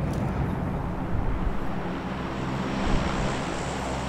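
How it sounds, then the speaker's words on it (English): An airplane in a video game passes overhead as a steady, loud roar with a windy rush. It holds constant for about four seconds with no talking. "Should have got up while the plane was going over here."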